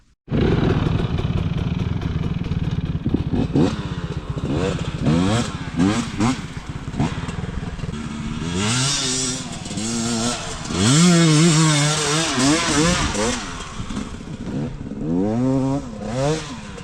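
A KOVI 300 Pro 2T two-stroke enduro motorcycle climbs a hill in first gear, its engine loud and close, buzzing and rising and falling through repeated revs and throttle surges, heaviest near the end of the climb.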